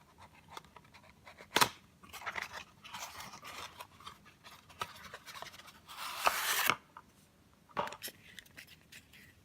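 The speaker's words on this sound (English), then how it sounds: "why don't we take this figure out of its packaging and move ahead with the review" Plastic packaging rustling, scraping and crinkling as a toy F1 robot figure (GoBots Slicks) is taken out, close and fairly quiet, with irregular bursts and one longer crackling stretch.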